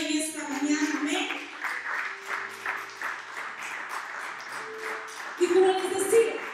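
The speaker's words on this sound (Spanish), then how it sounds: "Denle un aplauso al Señor en esta mañana" A church congregation applauds during a Sunday morning service, a steady wash of clapping from many hands that rises briefly near the end, with a sustained tone from an instrument or voice running beneath it.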